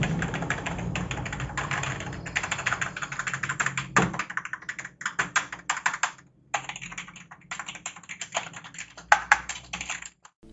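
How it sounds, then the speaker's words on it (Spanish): Typing on a VSG Crux gaming keyboard produces a fast run of clicky, clacking keystrokes, dense at first, then breaking into sparser, separate taps and a few louder thunks, heard up close with no talking. "A continuación les estaré dejando una prueba del sonido del teclado."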